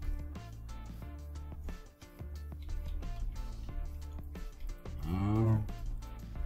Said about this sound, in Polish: Chodź, krówko, chodź.